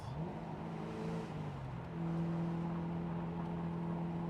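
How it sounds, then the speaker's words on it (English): A car pulls away in third gear on an Australian road, its engine holding a steady low drone that strains, dips briefly, then settles into an even, continuous hum close by. "Did I just start in third gear?"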